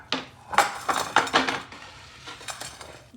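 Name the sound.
dish being moved on counter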